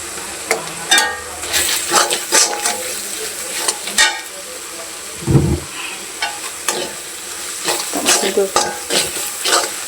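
Spices and salt being sautéed in a pan for a kochur loti curry with pangas fish, with a spoon repeatedly scraping and stirring over a steady sizzle, close and fairly loud, and a brief low thump partway through.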